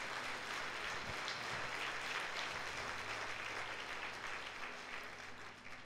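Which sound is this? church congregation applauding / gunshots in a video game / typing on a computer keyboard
church congregation applauding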